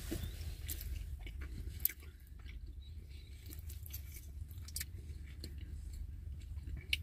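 Someone chews food soon after a dentist appointment, in a van. Soft, close biting and munching carries on steadily over a low background rumble, with a few sharper clicks along the way and no talking.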